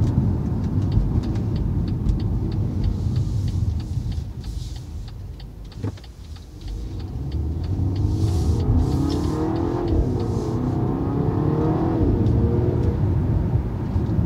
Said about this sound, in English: when you give it gas, you do hear a little bit of the engine